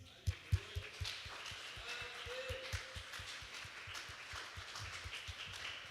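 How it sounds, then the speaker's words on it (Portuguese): A church congregation applauds the Lord during a Portuguese-language sermon, a moderate, continuous spread of clapping at middle distance, opened by a few sharper louder claps and carried along by a low rhythmic thumping. "Aplauda ao Senhor por isso."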